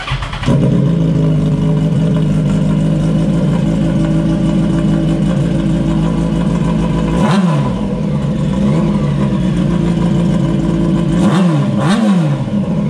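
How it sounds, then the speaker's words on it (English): A Yamaha R1 motorcycle with its exhaust baffles removed idles loud and close in a steady rumble, then is blipped through two sharp revs, one around the middle and a double rev near the end. "Here's our test with the baffles taken out."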